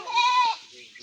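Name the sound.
goat bleating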